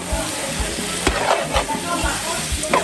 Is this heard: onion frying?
yes